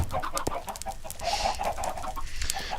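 Chickens cluck repeatedly in a video game scene with a fire pit, a busy, fairly close run of short clucks and calls across the whole stretch with no talking.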